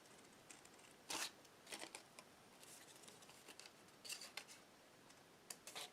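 Scissors snip through folded paper for a card easel, a few short crisp cuts in quick succession, close and fairly quiet with no talking.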